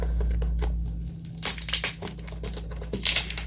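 Packing tape peeling off a cardboard parcel during an unboxing, heard as close crinkly rips and crackles in short bursts after a quiet pause, with a low steady hum underneath.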